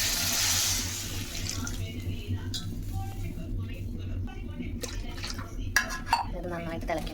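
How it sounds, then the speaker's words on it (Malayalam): Rice starch water pours into a cooking pot in a kitchen, a steady splashing stream with faint clinks of pots and utensils, close and moderately loud throughout. "കഞ്ഞിവെള്ളത്തിൻ്റെ തേടിയാണ് കേട്ടോ ഒഴിച്ചു കൊടുക്കുന്നത്."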